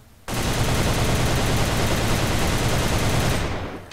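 An ARX-160 rifle in the shooter game AVA fires in one long continuous burst, a dense, loud roar of automatic gunfire lasting about three seconds before cutting off.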